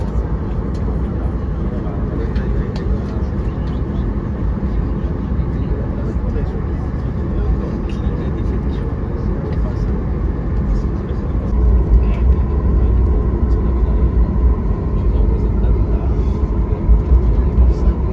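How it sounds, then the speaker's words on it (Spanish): Boeing 737-8 MAX airliner cabin waiting before takeoff: a steady, loud broadband rumble of engines and air systems fills the cabin, with a slight rise in intensity partway through. "estamos a punto de despegar"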